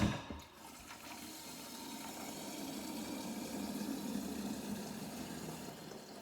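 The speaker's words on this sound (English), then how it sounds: "let's fill my kettle up for the morning" Water pours steadily into a kettle as it fills, a continuous close rushing gurgle that holds even for several seconds after a brief clatter at the start, with no talk.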